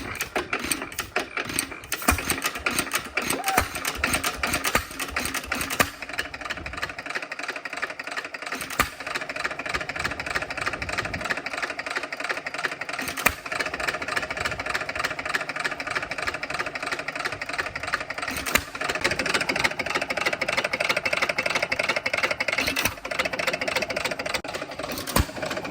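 A 127-year-old fuel-burning engine runs continuously, giving off a steady, rhythmic mechanical chugging and clatter for the whole stretch, with a few brief dips in the noise. No voices.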